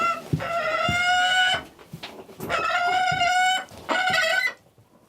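An Arctic gyrfalcon, the largest falcon, gives three loud, harsh, drawn-out cackling calls in close succession, each lasting over a second, with brief gaps and no talk.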